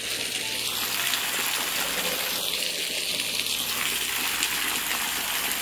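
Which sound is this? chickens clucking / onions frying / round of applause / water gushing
water gushing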